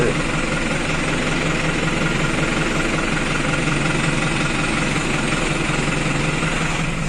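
A New Holland tractor engine idles close by, a continuous low rumble with a faint knocking vibration that holds even throughout.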